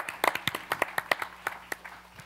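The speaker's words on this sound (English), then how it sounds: "What a round of applause for Sandy Baru and his team" A small scattered group claps hands at an indoor civic gathering, a quick flurry of sharp, uneven claps that thins out and fades within a couple of seconds, fairly faint with no talking over it.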